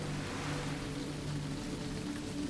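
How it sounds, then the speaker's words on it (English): Rain at a coastal lighthouse comes down in a steady, dense hiss that fills the scene evenly and stays constant throughout, with no voices. "As the rain intensifies"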